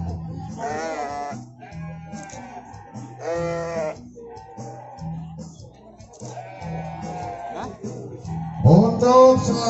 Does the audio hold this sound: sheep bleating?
yes